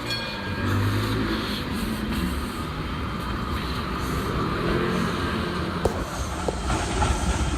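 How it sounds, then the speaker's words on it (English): A tram heard from onboard rumbles steadily along its rails with constant low-frequency rolling noise, a few metallic clicks near the end, no voices. "I'm on another tram"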